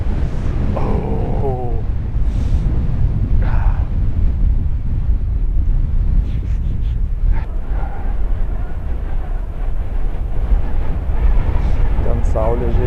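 Strong winter wind roars against the microphone on a hike up Mam Tor from Castleton, a constant low buffeting rumble throughout, with brief voice fragments faintly heard beneath it.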